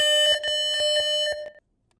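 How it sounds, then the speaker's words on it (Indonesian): A phone alarm set off by a motion-detection notification from an ESP32 sensor setup gives a rapid run of about ten loud, even electronic beeps on one bright tone, then stops and leaves silence. "di HP sendiri bakal muncul suara alarm"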